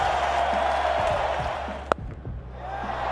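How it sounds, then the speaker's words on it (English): Large cricket stadium crowd roaring for a batsman reaching his century, a steady broad wash of cheering with one sharp bang near the middle, the roar continuing throughout. "The crowd is on their feet."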